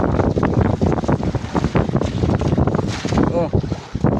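Wind gusts at sea roar around a fishing boat during night fishing, loud and continuous buffeting over the microphone, while someone talks beneath the rush.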